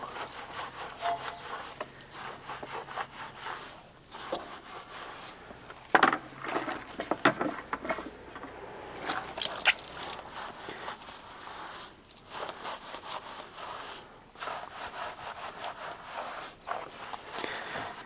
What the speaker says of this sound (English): This is a easy detail brush. Gets into these spokes nice and easily.